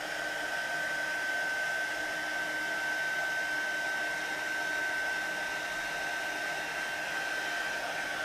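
A heat tool blows a steady, loud whir with a thin high whine as it melts embossing powder on a stamped sunflower image for cardmaking, unbroken and alone for several seconds.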